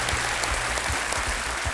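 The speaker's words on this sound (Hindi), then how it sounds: "बहुत बहुत तालियों के साथ इनका स्वागत किया जाए।" Studio audience applause on the Hindi game show Kaun Banega Crorepati welcomes a contestant, a dense, even wash of many hands clapping, loud and unbroken throughout.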